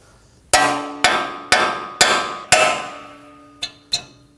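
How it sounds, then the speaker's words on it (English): A hammer taps the tie rod of a 2017-2024 Nissan Armada to pop it loose, giving five loud, ringing metallic strikes about half a second apart, then two lighter taps, with no talk. "Now with a hammer, we can go ahead and tap in this area to pop it off."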